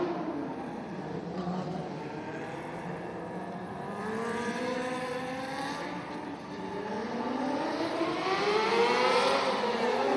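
Race cars at a dirt-track indoor event at PPL Center in Allentown, Pennsylvania, rolling across the scales into the infield, their engines droning steadily with rising and falling pitch throughout, moderately loud and continuous.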